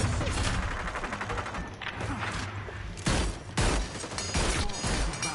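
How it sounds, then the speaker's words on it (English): Rapid automatic gunfire in the battle-royale video game Hyperscape, sustained volleys and sharp bursts crackling loudly throughout with heavy, crashing impacts near the end. "Why am I the one getting fucking shot at?"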